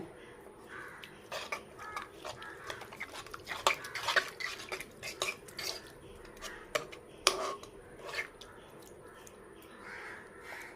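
Water is mixed into flour for chapati dough by hand, with irregular scraping, clinking and stirring against a bowl close by, crows cawing in the background, and a voice briefly heard.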